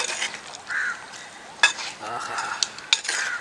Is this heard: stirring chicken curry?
yes